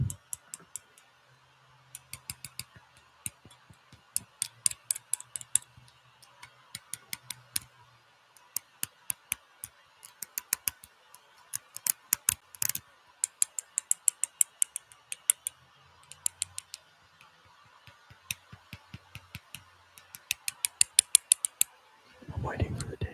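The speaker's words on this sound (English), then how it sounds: "I'm waiting for the day I'm tapping on one of these and it just decides to implode" Fingernail taps on a glass vacuum tube, a run of light, sharp clicks in irregular bursts and quick rolls, close and fairly quiet, with a brief louder rustle at the very end.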